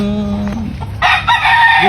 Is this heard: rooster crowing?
yes